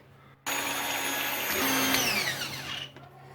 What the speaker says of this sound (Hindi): तो बस अंडों को हमने अच्छे से बीट कर लिया।